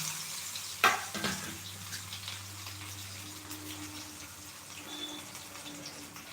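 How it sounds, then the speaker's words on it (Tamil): Crushed garlic and cumin sautéing in oil on a low flame, a sharp clatter near the start, then a gentle steady sizzle with faint occasional stirring. "அடுப்பை சிம்மில் வச்சுட்டு பூண்டு சின்ன ஜீரகமும் தட்டி வச்சுருக்கோம்"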